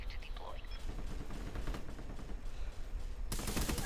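Rapid gunfire in a first-person shooter game, bursts of shots crackling continuously and loudly alongside game effects, ending in a sharp bright burst of noise.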